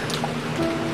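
Steady video-game rain makes a dense, even hiss of falling drops throughout, with faint tonal background sounds running underneath and no voices.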